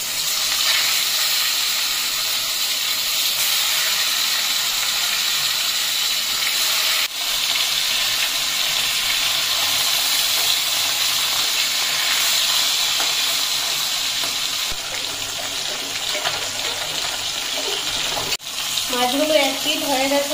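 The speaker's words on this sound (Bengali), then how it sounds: "কড়াইতে দিয়ে দিয়েছি সর্ষের তেল। তেল গরম হয়ে গেছে, এখন মাছগুলো ফ্রাই করে নেব।" Koi fish frying in hot mustard oil in a kadai crackle and sizzle in a continuous close hiss for about twenty seconds, with a few faint clicks and a brief utensil clatter near the end.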